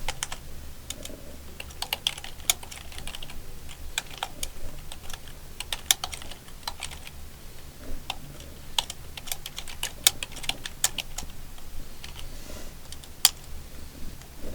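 Fast, steady typing on a computer keyboard while entering a full file path, with dense clicking keystrokes running throughout at close range and no voices.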